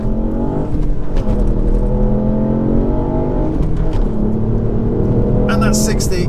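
A stage 1 tuned Ford Fiesta ST launches hard and pulls away, its engine droning loud and close with rising revs from inside the cabin, while someone talks over it.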